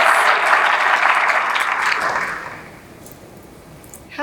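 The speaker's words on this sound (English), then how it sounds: "Let's give Cotton Patch a round of applause." A round of applause from a luncheon crowd at a community event, full and brisk at first, then thinning out and fading to quiet after about two and a half seconds.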